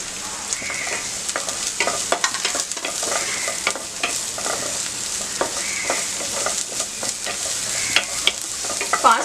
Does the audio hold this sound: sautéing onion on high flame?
yes